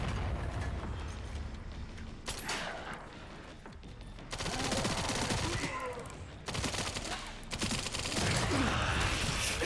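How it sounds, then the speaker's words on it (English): Gunfire in the video game Requiem comes as dense, rapid bursts of loud shots that rattle almost without pause in several long volleys, with brief lulls between them. "I've got so many bullets in you."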